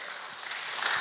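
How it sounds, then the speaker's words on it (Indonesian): Brief burst of crowd applause at an online church worship service, a short stretch of many hands clapping together at moderate volume, rising slightly toward the end. "Tepuk tangan buat Tuhan kita."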